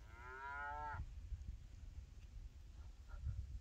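Cows moo loudly once in the opening second, with a long harmonic call, then give way to steady outdoor wind rumble and faint rustling along a field walk between Soles Hollow and Thor's Cave.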